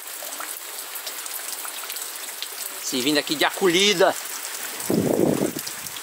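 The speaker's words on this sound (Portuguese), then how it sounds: "E a chuva está com muito vento." Windy rain in the Sertão das Marrecas, Sobral, a steady hiss of falling rain and gusts throughout, with a person talking over it partway.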